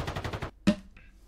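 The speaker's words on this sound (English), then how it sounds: "It's a dual wielded pistol." Gunfire from a dual-wielded pistol in Call of Duty Black Ops 6 Zombies, heard as a quick burst of rapid shots followed by one louder, sharper shot and a short metallic ring.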